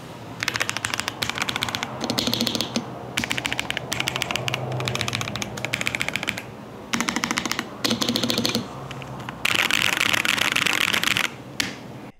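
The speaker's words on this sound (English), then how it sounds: "these white flame switches sound absolutely amazing" Bursts of rapid typing on a Higround Skystone mechanical keyboard with white flame switches, crisp clacky keystrokes in fast runs separated by short pauses, close and clear with no voices.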